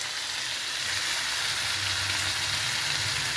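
Vegetables sauté in oil with salt, producing an even, close sizzle that holds steady throughout with faint stirring underneath and no voices.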